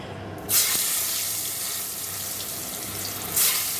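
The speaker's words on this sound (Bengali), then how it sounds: "এখানে দেখো আলুগুলো ভেজে নেব" Potatoes frying in a pan in a home kitchen, a continuous hissing sizzle that flares louder at the start and again near the end, with no voices.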